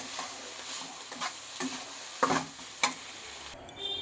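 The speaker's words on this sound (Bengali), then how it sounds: "এবার আবার একটুখানি নেড়ে নেব" Quiet background sizzle broken by several scraping, clattering strokes of a spatula stirring potato and eggplant in a pan, irregular and close.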